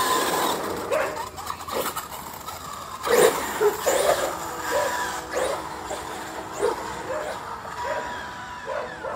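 Dogs bark and yip intermittently in the distance, several short barks scattered over a background of road and wind noise.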